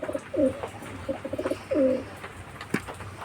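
Pigeons coo in soft, rolling bursts, several calls in a row nearby, with a faint outdoor hum and a brief click.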